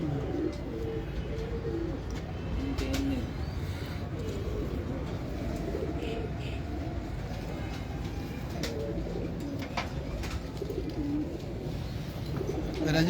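Pigeons coo repeatedly in soft, rhythmic bursts at a moderate distance, with occasional faint chirps and low background murmur, while people talk quietly now and then.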